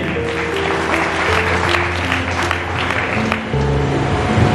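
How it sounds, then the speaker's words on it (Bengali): A congregation at a Bengali church sermon during a spiritual family camp claps loudly together, a dense, sustained burst of applause filling the hall with faint tones and murmurs beneath. "ও প্রেজ দ্য লর্ড, জোরে করতালি দেই"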